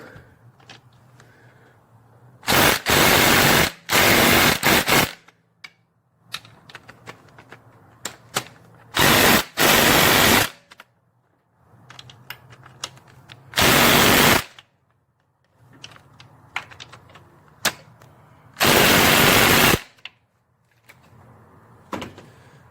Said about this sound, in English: let's start wrenching on some of these bolts now